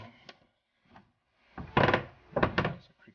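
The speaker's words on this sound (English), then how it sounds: "That's some creaky shit doors." Creaky wooden doors in an old building opening and closing, a couple of drawn-out groaning creaks with soft knocks, fairly close and standing alone without talk.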